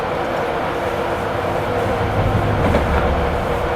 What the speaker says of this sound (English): there's a cross-country Voyager coming my way